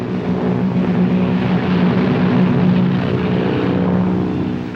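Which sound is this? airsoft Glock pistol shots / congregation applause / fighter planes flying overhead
fighter planes flying overhead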